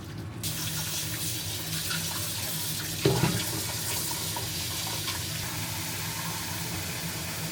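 Running water in a kitchen sink, pouring out after a first boil of beef and then refilling, a continuous rushing stream with a brief splashing clunk in the middle, close and steady, with no talking.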